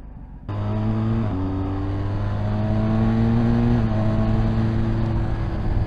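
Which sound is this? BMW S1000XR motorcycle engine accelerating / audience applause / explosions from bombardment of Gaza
BMW S1000XR motorcycle engine accelerating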